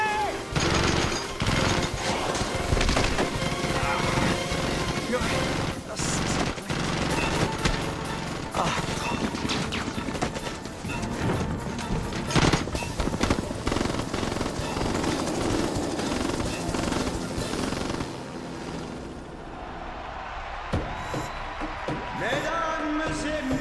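Heavy, continuous gunfire with rapid bursts, crashes and machine-gun chatter, dense and loud for most of the stretch, with shouted voices mixed in before it thins out toward the end.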